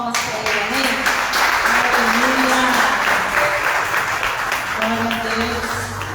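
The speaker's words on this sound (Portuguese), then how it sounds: "Vamos saudar o Senhor com palmas para Ele" A church congregation applauds in a sustained, dense wash of clapping through the whole stretch, with sung or spoken voices carrying over the top.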